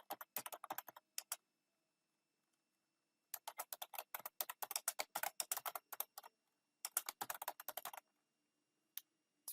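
Keystrokes on a computer keyboard while entering a to-do list in OneNote, heard as quick, close, crisp tapping bursts separated by short pauses, with no talking.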